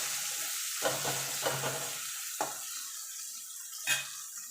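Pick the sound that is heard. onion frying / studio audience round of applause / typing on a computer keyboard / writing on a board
onion frying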